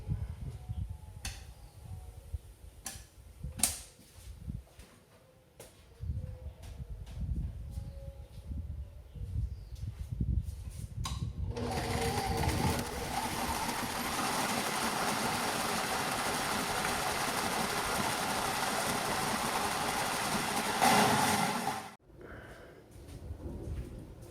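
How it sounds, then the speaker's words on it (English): Scattered clicks and knocks give way to a loud, steady grinding whir of an electric grain mill milling wheat flour, running about ten seconds, then cutting off abruptly. "First, I will mill my own flour."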